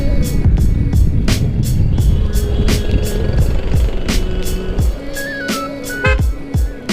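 Busy street traffic rumbles through Sadar Bazaar in Dera Ghazi Khan, with a steady engine drone, passing vehicles, horn toots and rhythmic clicking up close.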